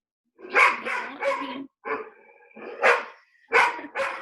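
A pet dog barks and yips close by in a string of short, sharp, high-pitched barks with brief whining tones between bursts, heard alone without talk.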